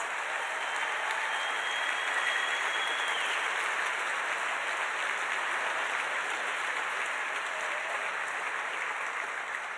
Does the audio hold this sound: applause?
yes